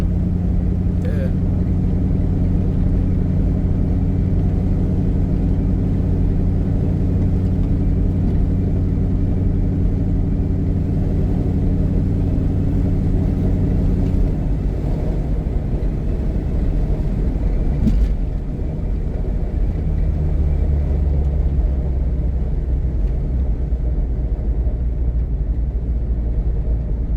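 A 2001 Ford Mustang GT being driven gives a steady, low engine rumble and road drone from inside the cabin, with a shift in tone partway through and someone talking over it.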